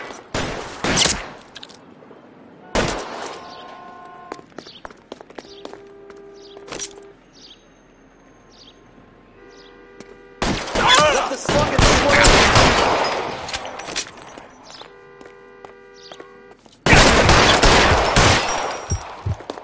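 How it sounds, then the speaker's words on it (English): Bursts of automatic suppression gunfire in the video game L.A. Noire come in loud, dense volleys separated by quieter stretches with scattered single shots and faint game sounds. "I'll lay down some suppression fire"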